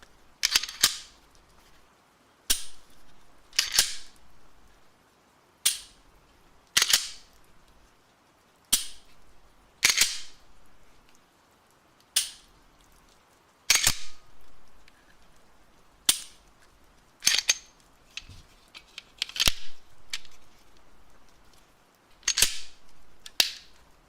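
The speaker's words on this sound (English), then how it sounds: "I got a new handgun today. It's a CZ P10C, so I will be doing some dry fire." A CZ P10C handgun being dry fired, about fifteen sharp, crisp metallic clicks spaced irregularly a second or two apart, close and clear against a quiet room.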